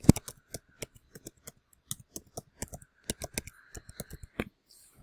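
A username and password go in on a computer keyboard as a quick run of crisp, close key clicks in uneven bursts, with brief pauses between, in a quiet room.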